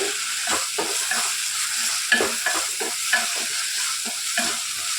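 Ginger-garlic paste sautés in a pan with a constant close sizzle, while a spoon stirs it in a rapid, regular rhythm of soft scraping strokes.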